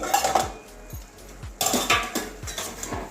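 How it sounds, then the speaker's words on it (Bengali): A metal pan and its lid clatter while pasta cooks, with a run of close, evenly spaced metallic knocks and clinks and no talking. "এবারে আবারও ঢাকনা খুলছি।"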